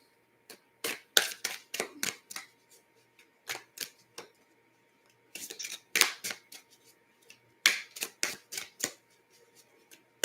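Oracle cards from a Rebel deck being handled and shuffled, giving bursts of crisp papery snaps and flicks in irregular clusters with short quiet gaps between them.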